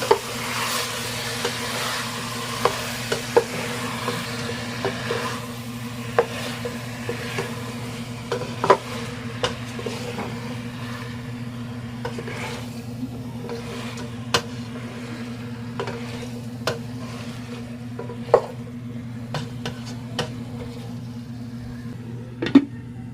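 Chicken feet being stirred in a hot pan for sweet and sour chicken feet. A soft, steady sizzle runs throughout, broken by scattered sharp clinks and scrapes of the utensil against the pan.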